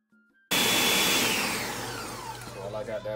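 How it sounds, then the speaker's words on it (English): A kitchen blender whirs loudly, pureeing peppers and seeds for jollof rice, starting abruptly after a brief quiet and holding a steady, harsh motor roar that slowly settles as the contents smooth out. "So while I got that blending, I'm gonna put the rest of the oil in a pot."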